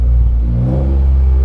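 A car engine hums close and loud at a low pitch, swelling slightly as the throttle is opened, a steady rumble with no talk.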